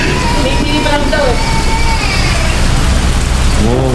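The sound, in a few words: rain falling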